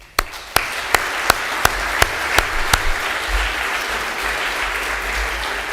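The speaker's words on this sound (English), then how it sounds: "Please join me in a big round of applause for your seniors' effort and dedication." An audience gives a sustained round of applause for seniors at a school awards ceremony. It opens with a series of sharp, evenly spaced claps that dissolve into a steady, loud wash of clapping.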